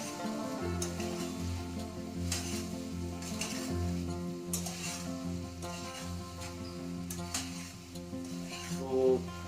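Prawn curry with coconut milk frying in a pan, a soft steady sizzle with repeated scraping strokes of a spoon stirring, fairly quiet and close, no talking.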